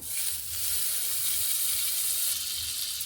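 A little butter sizzles in a hot kadai, a soft, steady close-up hiss and crackle that carries on evenly with no talking.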